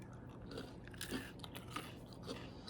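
Someone chewing a miniature Oreo cookie, close, faint crunching bites with soft mastication between them, without talking.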